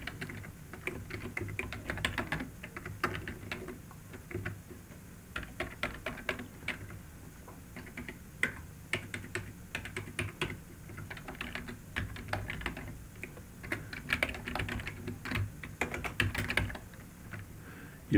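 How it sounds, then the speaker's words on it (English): Steady typing on a computer keyboard while entering technician information into a software form, with quick, irregular clusters of key clicks running for the whole stretch at a moderate, close level, no voices. "Type in your information."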